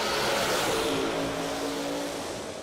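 A turbocharged 1990 Mustang drag racing in Ultra Street at a Yellow Bullet Nationals event, a loud, sustained engine roar with a steady tonal whine, dropping slightly in level as the car pulls away over a couple of seconds.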